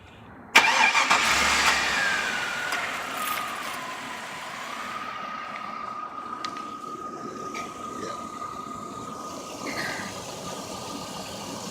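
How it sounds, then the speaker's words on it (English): A 2001 Chevy Tahoe engine, after a water pump repair, cranks and catches with a sharp start, then settles into a steady, moderately loud idle that runs on alone with no talking. "So it's a good running engine"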